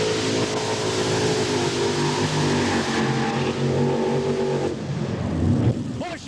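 An unlimited modified pulling tractor with 9,200 pounds of pulling power roars at full throttle, a loud sustained engine drone that backs off near the end, while an announcer talks over it.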